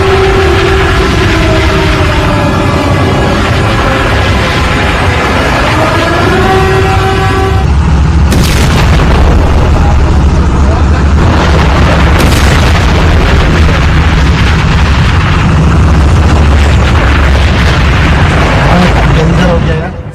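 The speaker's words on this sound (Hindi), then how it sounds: "सऊदी अरब में ईरान ने मिसाइल दागी।" Iranian missile strike on a Saudi oil refinery: a loud wailing tonal sound gives way to heavy, continuous roaring rumble with deep booming explosions bursting through.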